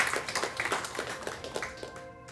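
A small spiritual gathering claps for an ascended master with sparse, fairly quiet clapping from a few people, the individual hand claps distinct and uneven over a couple of seconds.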